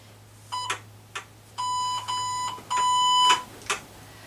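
A timer alarm beeps in bursts: a few short double beeps, then two longer sustained tones with brief gaps, and a final short beep, loud and close over a steady low hum.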